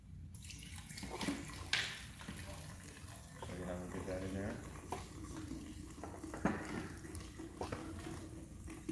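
Key lime drink mixture is poured into a container, a steady liquid pour with splashing and light clinks, fairly faint under room noise.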